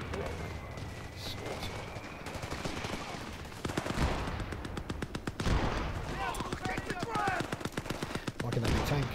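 Gunfire in Company of Heroes 3 crackles steadily in rapid machine-gun bursts, growing louder and denser midway, with a few heavier thuds and game voices in the mix.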